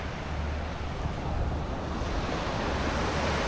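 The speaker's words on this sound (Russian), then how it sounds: "Море спокойное в целом." Continuous soft wash of gentle Black Sea waves rolling onto a sandy Crimean shore, with light wind rumbling across the microphone.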